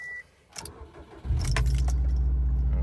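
A Subaru car engine cranks and catches after keys jangle and some faint clicks, then settles into a loud, steady idle close by.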